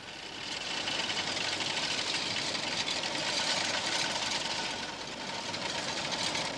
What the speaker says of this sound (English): This is the rimming machine.